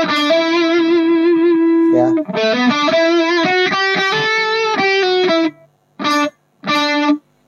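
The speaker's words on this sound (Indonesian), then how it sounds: "Jadi misalkan distorsi pakai delay lebih enak." An electric guitar run through distortion and delay stompbox pedals plays sustained overdriven notes and short repeated phrases, with echoing tails trailing after the final stabs; a voice briefly interjects.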